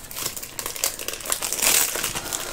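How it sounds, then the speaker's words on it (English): A plastic bag wrapped around a diamond painting canvas is torn open up close, a steady loud crinkling and crackling of plastic that swells slightly toward the end. "I'm gonna have to rip it out of the canvas, out of the plastic bag."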